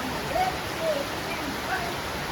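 Rain falls steadily on a city boulevard, giving a continuous soft wash with a few faint whistling tones drifting over it and faint voices in the background.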